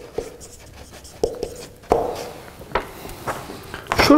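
A pen writes a short note, with several scratchy strokes and light taps on paper close by, some soft rustling in between and no voice over it.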